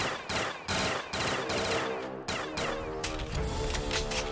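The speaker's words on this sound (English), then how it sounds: "this is like a shotgun pistol" A shotgun pistol firing in Call of Duty Zombies, loud repeated blasts in a fast, uneven rhythm, close and dominant, with chaotic game noise filling the gaps.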